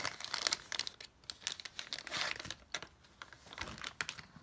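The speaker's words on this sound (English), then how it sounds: "let's open up the cards and take a look" Plastic wrap crinkling and tearing as Mansions of Madness game cards are unwrapped, irregular bursts of close, quiet rustling and crackling with short pauses in between.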